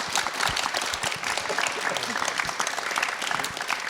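An audience at a live music and talk event in Auckland breaks into dense, sustained applause, a steady wash of many hands clapping with faint crowd noise.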